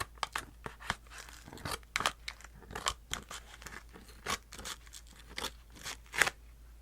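Scissors snip through a small packing sticker on a package with a series of crisp, close, quiet cuts and crinkles, irregular in rhythm and with no talking.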